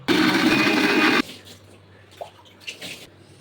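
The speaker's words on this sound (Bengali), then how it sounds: "এবার ভালো করে মিক্সিতে একটা স্মুথ পেস্ট করে নেব।" A mixer grinder blending green chillies into a smooth paste runs as a loud, steady whirring roar for about a second, then cuts off, leaving faint clatter.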